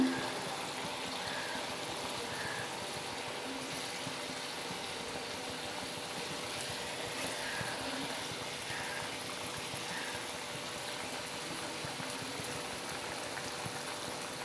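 Batasio (tangra) fish curry simmering in a pan, cooked the Bengali way, gives a steady, even bubbling and sizzling hiss that holds at the same level throughout, with no talking.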